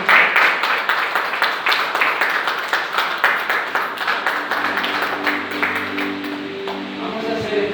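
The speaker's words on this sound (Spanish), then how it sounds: "Denle un aplauso al Señor." A church congregation applauds, with brisk rhythmic clapping that starts loud and continues at a steady pulse. A tonal hum or instrument note joins partway through and lingers under the clapping toward the end.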